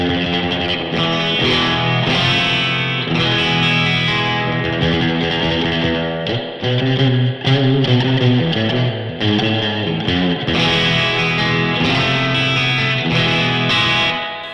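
Distorted electric guitar played through a Headrush Flex Prime modeler with reverb, matched to a classic 4x12 cab, strummed chords ringing loud and sustained with brief gaps and a washy tail.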